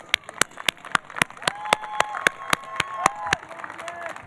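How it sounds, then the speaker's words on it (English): Sparse, scattered hand claps at a university engineering class day ceremony, sharp separate claps from a small group rather than a full ovation, close and fairly loud with a faint tone underneath. "A round of applause."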